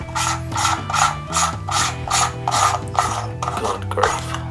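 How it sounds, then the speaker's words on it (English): The tail cap of an Emisar D18 flashlight is unscrewed by hand, giving about eight rhythmic, close metallic scraping clicks as the threads turn. "Take the tail cap off for you as well."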